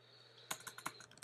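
Typing a note on a computer keyboard: a quick burst of about eight close, crisp key clicks after a brief quiet pause, over a faint steady electronic hum.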